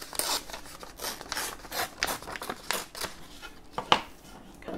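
Scissors snip apart strips of paper and lace at close range, a run of crisp, uneven cuts and rustles with no talking.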